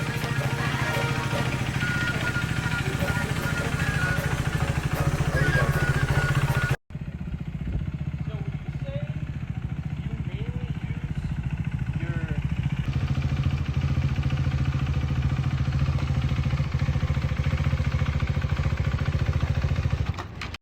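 A 2022 KTM Duke 390 ABS motorcycle fitted with a quickshifter idles with a steady, close engine rumble that runs almost unbroken, cutting out for a moment partway through before settling back in.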